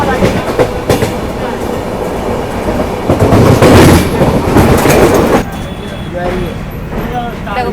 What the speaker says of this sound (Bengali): তো আমাদের ট্রেনটা আজকে আগ্রা ফোর্টের দিকেই যাবে